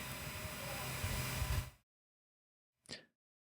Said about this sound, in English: I've got a lot of air conditioning, humming, all kinds of sounds happening right now